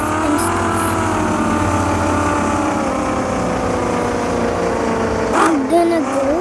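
Engine of a sports car drifting in a racing video game, a steady loud revving drone with rising and falling pitch sweeps, someone talking over it near the end.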